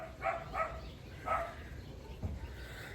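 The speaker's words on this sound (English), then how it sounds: "1 second, that's my dogs." Indoor dogs barking in the background, three quick faint barks followed by one more after a pause, muffled and at a distance.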